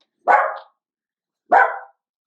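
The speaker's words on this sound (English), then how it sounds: "The puppies are in a barking mood." Puppies barking indoors, two short sharp barks about a second apart, close and fairly loud, with silence between them.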